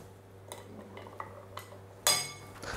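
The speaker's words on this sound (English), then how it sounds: "We give it a little stir." A gin and tonic stirred in a glass with a spoon: a few light clinks spaced about half a second apart, then a louder bright ring of metal against glass near the end.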